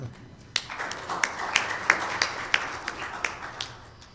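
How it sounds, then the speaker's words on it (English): Scattered applause rises from a church congregation, a sparse patter of individual claps from several people, moderately loud over a quiet room murmur, fading slightly at the end. "Hold the applause, please."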